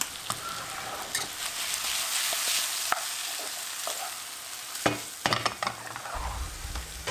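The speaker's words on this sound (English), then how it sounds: "Also going to saute the tomatoes a bit." Tomatoes sauté in a pan seasoned with paprika, pul biber, black pepper and oregano, giving a loud, steady sizzle broken by clattering stirs of a utensil.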